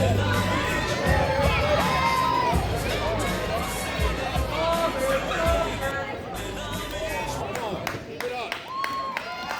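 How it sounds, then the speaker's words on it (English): A wrestling crowd cheers loudly for Viva Las Amish, with shouting children, whoops and scattered clapping mixed into a continuous roaring babble that stays close and dense throughout. "The crowd firmly behind Viva Las Amish here."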